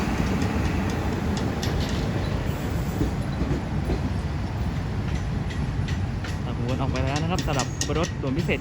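Train 40, Surat Thani to Bangkok on Thailand's southern line, rumbles past up close, steady and loud, with rhythmic clatter from the wheels and a metallic squeal near the end.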